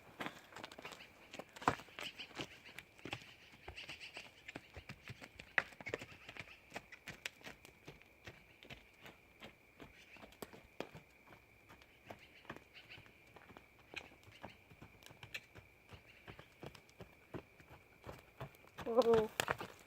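A young mare ridden bareback with only a rope, never having been ridden this way before, walks with steady clip-clopping hoofbeats close by, a sparse irregular rhythm over a faint steady tone, with a brief sound near the end.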